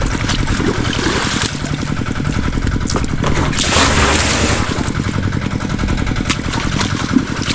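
A water pump engine running in a riverside field, filling drums for spraying, a loud steady mid-pitched chugging drone that continues throughout, close by.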